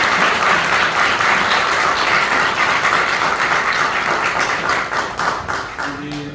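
A roomful of guests claps loudly and steadily for a celebrated couple at a party, the dense applause thinning a little toward the end.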